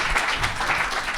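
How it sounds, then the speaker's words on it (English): A crowd claps in a dense, steady patter of applause, lively and close throughout. "round of applause for Shining for sticking it out"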